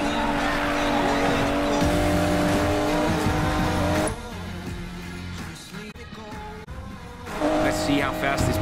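Car racing at speed in Need for Speed Payback: a loud, sustained engine drone with squealing tires. It eases off for a few seconds midway, then surges again near the end, under a voice.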